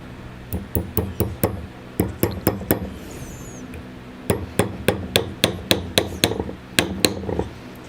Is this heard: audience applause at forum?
no